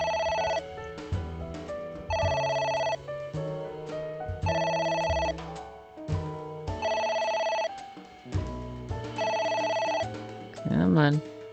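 A telephone rings again and again in the video game AI: The Somnium Files, with steady repeating bursts of bright electronic trilling. Someone talks briefly near the end.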